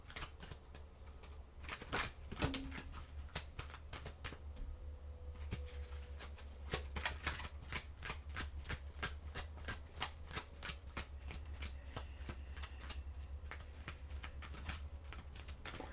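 An oracle card deck is shuffled steadily for a long stretch, producing rapid, close, papery riffling and flicking pulses at an even rhythm, with no talk.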